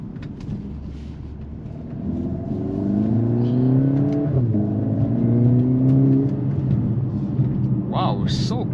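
A 2023 AMG GLA 45 SUV in Sport Plus mode accelerates through quick paddle-shifted gears, its engine note rising in steady pulls with a shift dip midway, loud and close inside the cabin, with speech present.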